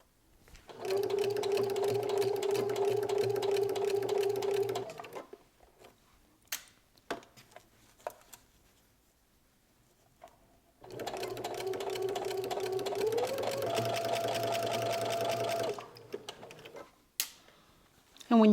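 A sewing machine sews a pajama seam on its free arm in two long, steady runs of fast, even stitching, separated by a quiet stretch with small handling clicks and fabric rustles.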